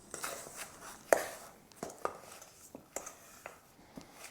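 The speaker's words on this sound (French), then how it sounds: "on vient crémer le beurre avec le sucre" Softened butter being creamed with sugar in a bowl, heard as a series of close, irregular taps and scraping knocks of a utensil against the bowl, fairly quiet.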